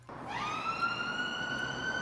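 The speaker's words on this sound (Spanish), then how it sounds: "el siguiente sonido es ambulancia" An ambulance siren wails alone, a steady rising tone that sweeps up quickly and then holds a loud, sustained pitch with strong harmonics over light background noise.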